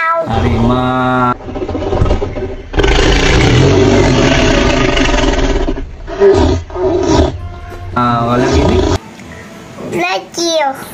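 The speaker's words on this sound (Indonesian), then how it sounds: "Ini harimau." A tiger roars in loud, repeated bursts of deep growling with harmonic rumbles, broken by short gaps and mixed with a voice.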